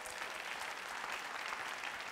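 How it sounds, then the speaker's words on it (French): Steady, dense applause from a crowd, continuous and fairly even throughout, with no voices standing out. "Vous l'applaudissez, s'il vous plaît."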